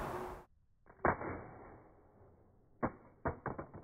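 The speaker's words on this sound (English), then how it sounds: "screen down drop test." A Nokia phone dropped screen down hits a hard surface with a sharp clack, followed after a pause by a cluster of quick rattling bounces and knocks, close and fairly quiet overall.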